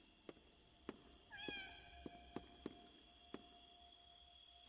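A cat in the video game Indigo Park gives one short, quiet meow among soft, regular clicking steps over a faint ambient hum.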